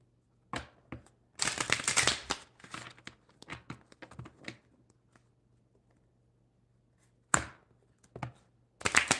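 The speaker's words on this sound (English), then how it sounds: "Couple more shuffles." A deck of playing cards is shuffled by hand during a live tarot reading, giving several quick riffling bursts separated by short pauses, close and fairly quiet.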